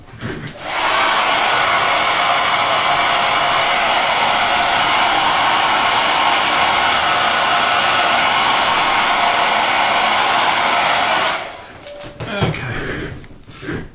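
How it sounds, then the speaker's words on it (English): A hair dryer blows loudly and steadily as a close, continuous whoosh for about ten seconds, then switches off, followed by faint handling noises; used while building Tamiya 1/48 P-47D and P-51D model kits. "if I just grab the hairdryer"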